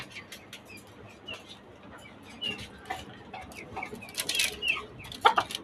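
Desi hens and chickens on a poultry farm in Dhaka cluck and call in scattered bursts, with faint wing flaps, growing louder and busier toward the end.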